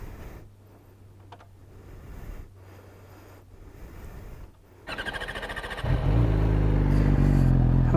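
A 2015 Yamaha R6 sport motorcycle with an aftermarket exhaust starts after a quiet stretch of faint mechanical noise, then its engine rises in two steps to a loud, close, deep-toned rumble and rev.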